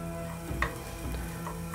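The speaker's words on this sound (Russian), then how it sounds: "Имбирь и чеснок начинают шипеть." Ginger and garlic sizzle softly in a heated pan for a crispy eggplant dish in Chinese cooking, with a steady frying hiss and a couple of light stirring scrapes.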